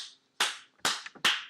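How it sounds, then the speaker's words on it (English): Three sharp, close hand claps from one person, spaced roughly half a second apart, each loud and crisp with a quick decay into near silence between them. "he claps his hands"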